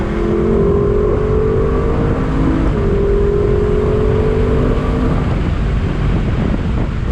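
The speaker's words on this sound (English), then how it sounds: "We're in a convertible LC 500, all new for 2021. On throttle, here we go." A 2021 Lexus LC 500 convertible accelerates on a road with the top down. A steady engine drone rises in pitch through gear changes under heavy, constant wind rush.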